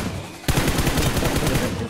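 Loud, sudden burst of rapid gunfire from a shotgun in the battle royale game BGMI, starting abruptly and continuing as dense repeated shots close by.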